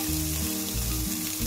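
Beef fat sizzles loudly in a hot pot, a dense crackling hiss with steady bursts, close up and without any talking.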